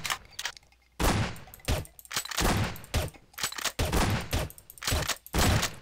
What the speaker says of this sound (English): I also got the tranquilizer gun that does nothing to tranquilize.